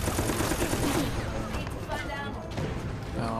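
Rapid gunfire bursts in Resident Evil: Operation Raccoon City, loud and dense for about a second before fading into quieter game noise, with a person talking over it.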